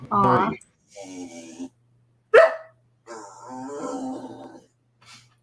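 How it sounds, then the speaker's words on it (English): A pet dog barks a few times in a home setting, in short bursts between stretches of people talking, with one sharp loud yelp partway through. "Sorry if you guys hear my dog in the background."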